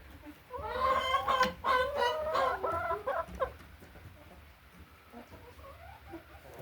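Hens on a small family-run poultry farm cluck and squawk in a lively burst near the start, then the calls fade to softer, scattered clucks over a low background hum.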